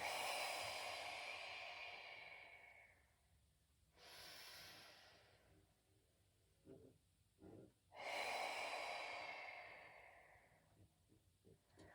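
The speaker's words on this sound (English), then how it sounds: "bring it back, we're inhaling, exhaling, inhaling, exhaling." Deep inhaling and exhaling breaths during a Pilates back-care exercise, slow audible rushes of air in an alternating rhythm, close and fairly loud with no talk.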